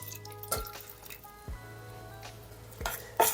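Water goes into a small saucepan holding currant jam, heard as three quiet, separate splashes and drips against a low hum in a kitchen.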